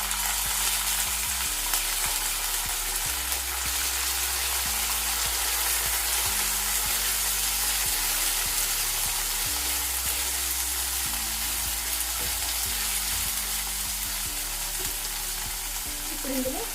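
Green chillies and chopped onion fry in hot oil in a pan for an amaranth-leaf stir-fry, a loud, steady sizzle running without a break, with occasional stirring and a low background tone underneath.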